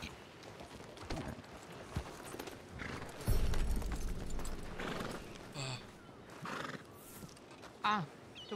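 A horse in a western video game whinnies several times amid the clip-clop of its hooves, fairly faint, with game effects and occasional voices in the background.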